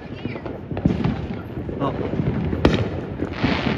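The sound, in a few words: New Year's fireworks exploding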